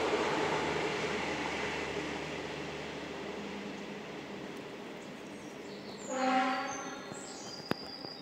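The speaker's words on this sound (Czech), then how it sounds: "A zrovna nám projíždí vláček." A small train rolls past the rails below castle ruins at Stará Dubá on the Sázava river, a continuous broad rumble with a short horn-like tonal blast near the end, moderately distant.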